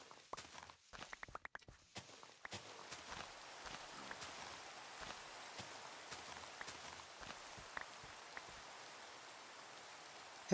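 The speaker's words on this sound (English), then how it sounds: "Guess what? It's raining." Steady rain falls continuously at close range, a dense wash of patter broken by a few sharper drip and tapping sounds, with brief louder knocks near the start.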